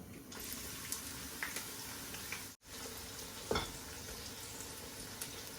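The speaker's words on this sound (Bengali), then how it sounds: "আমি কিছু পেঁয়াজ দিলাম ব্রাউন হওয়ার লাগে" Onions frying in a pan as they brown, a steady broadband sizzle that holds evenly throughout, broken by a brief dropout midway and a few soft clinks, with no talking.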